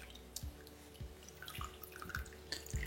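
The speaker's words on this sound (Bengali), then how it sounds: "আমি একটা ছাঁকনির মধ্যে এটাকে স্ট্রেন করে নিচ্ছি।" Water from boiled broccoli draining through a kitchen strainer, a soft trickle with scattered drips and small splashes, close and fairly quiet, ending with a slightly louder slosh.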